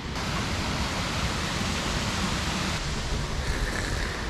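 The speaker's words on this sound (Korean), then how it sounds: "야, 저게 인공폭포." An artificial waterfall at Uirimji reservoir in Jecheon roars as a steady, dense broadband rush of falling water, loud and continuous with no talk.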